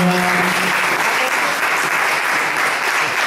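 A church congregation at a Sunday worship service claps for new ministry leaders, a loud, close and sustained roar of many hands that keeps an even intensity from start to finish.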